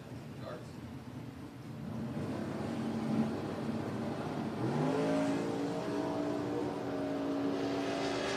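White and blue Ford Mustangs launching at a drag race, engines rising into a sustained rev that climbs in pitch as they pull away, heard at a distance.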